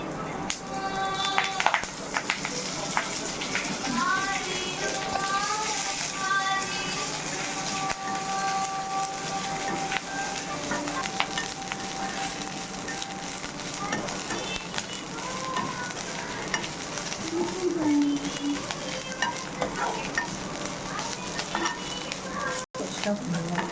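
Moringa leaves sizzle in a hot kadai, a steady crackling fry broken by the scrape and clatter of stirring, heard up close at moderate level throughout.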